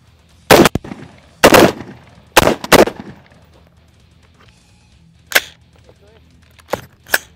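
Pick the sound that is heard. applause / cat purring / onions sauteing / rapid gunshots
rapid gunshots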